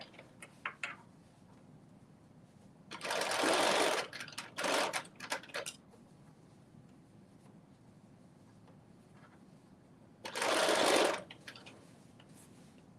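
A sewing machine stitches dress fabric for a Simplicity 9790 pattern, running in two distinct bursts, one longer run with a short follow-up and another a few seconds later, fairly close and loud against a quiet room.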